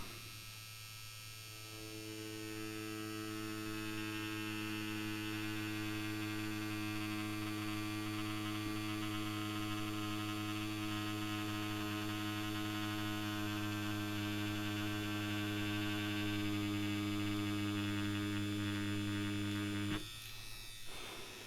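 An Ambition Soldier Max tattoo machine hums steadily and evenly for about twenty seconds, a continuous electric buzz close up that cuts off abruptly near the end, with no voices.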